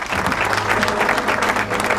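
An audience claps continuously in welcome for a singer at a village devotional song programme, a dense, loud, even wash of applause with no pauses.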